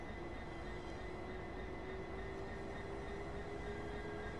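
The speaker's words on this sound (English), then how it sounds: "You're all leaving the train station." Steady low rumble and hum of an electric train pulling out of a station on the East Coastway line in Train Sim World 2, with a faint sustained whine rising slightly, continuous and even throughout with no talk.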